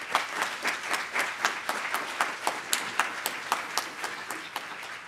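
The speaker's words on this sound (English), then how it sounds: "could we give them a round of applause?" Scattered hand clapping from a modest audience at a science institute's final presentations, individual claps distinct and fairly steady, moderately loud and without speech.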